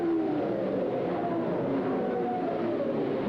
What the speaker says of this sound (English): Engine kicking over.